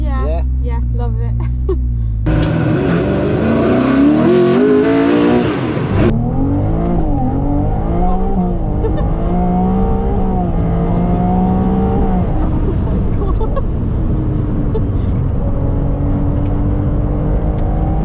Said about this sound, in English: The 296 GTS is a two-seater mid-engine V6, but it's hybrid and it's quick.